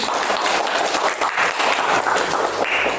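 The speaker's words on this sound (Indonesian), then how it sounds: "beri aplaus yang meriah untuk cerita yang" Classroom of students applauding after a classmate finishes telling a story, a dense, steady burst of many hands clapping close by for about three seconds with no talk over it.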